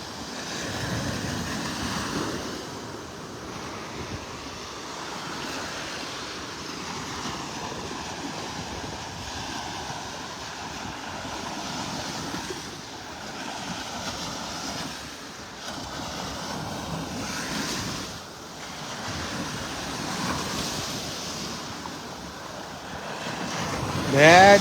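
Ocean surf rolls onto a beach in North Naples, Florida, on a morning walk, a steady wash of waves mixed with wind buffeting the microphone throughout.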